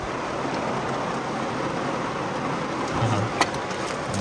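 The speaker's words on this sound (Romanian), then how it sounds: "A început ploaia." Rain starting to fall in Germany, heard from inside a car as a steady loud hiss of drops on the vehicle, with a brief knock near the end and no talking.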